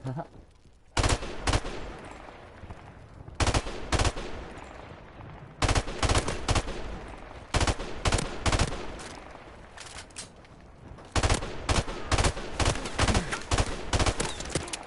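A three-round burst rifle in the Modern Warfare Remastered video game fires repeated sharp, loud bursts of quick shots, separated by short pauses, with a voice talking faintly in places.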